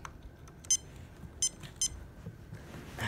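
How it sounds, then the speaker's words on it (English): Three short, faint electronic beeps from a Sharp alarm clock being plugged in, spaced unevenly over a quiet background hum. "When you plug it in, it does beep."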